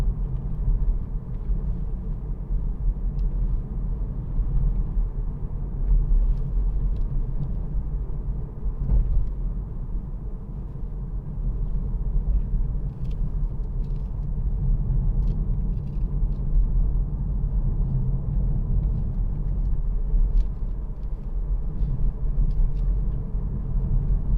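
Steady low engine rumble and road noise inside a moving 2018 BMW 330d M Sport Touring automatic, continuous and even throughout, with faint occasional clicks and no talking.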